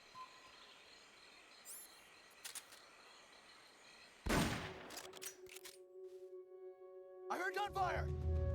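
Gunfire from the video game Metal Gear Solid: Peace Walker comes in sharp, scattered bursts over quiet jungle ambience with faint bird and insect calls. The shots are sporadic rather than continuous.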